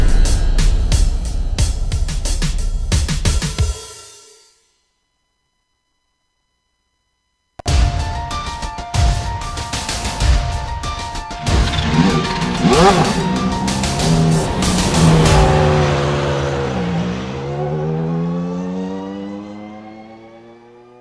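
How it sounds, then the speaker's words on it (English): Lotus 79 Grand Prix race cars scream at full throttle on the Belle Isle Detroit street circuit in iRacing, engines revving hard and shifting through gears, cutting out briefly before roaring back as the cars close in near the finish. "He's going to pull up side by side with the leader. It's going to be a drag race to the finish."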